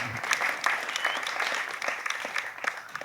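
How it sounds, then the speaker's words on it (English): Steady applause from a crowd, continuous clapping at moderate volume throughout with no voices standing out. "Oh, yeah, y'all can clap."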